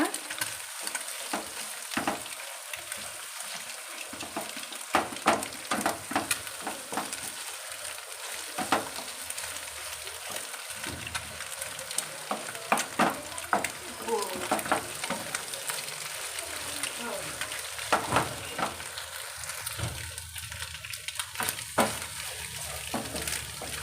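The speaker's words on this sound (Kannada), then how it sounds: "ದೊಡ್ಡ ದೊಡ್ಡ ಪೀಸ್ ಥರನೇ ಇದು ಫ್ರೈ ಮಾಡ್ಕೋಬೇಕು" Egg frying in large pieces in a pan for egg fried rice, a steady close sizzle with frequent spatula scrapes and light clinks running throughout, no voices.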